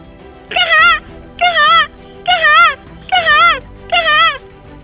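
A man mimics a newborn baby's crying with five short, wavering wails at an even pace, each about half a second long, loud and close with brief gaps between.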